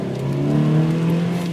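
Ferrari 360 Modena V8 engine revving while driving, a loud steady tonal drone that swells and eases slightly, heard from inside the car.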